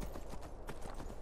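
Horse hoofbeats in Skyrim Special Edition, a rapid uneven clip-clop of hooves trotting close and steady throughout, with faint game ambience underneath.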